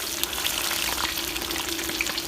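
Battered, breadcrumb-coated bullfrogs deep-frying in oil over low heat give a continuous, even bubbling sizzle with small pops, close and steady.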